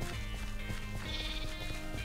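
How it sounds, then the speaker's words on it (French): Minecraft sheep bleating steadily, with loud wavering bleats layered over a dense background of other farm animal sounds, near and with no talk. "Donc alors, nos petits moutons, on va les reproduire direct."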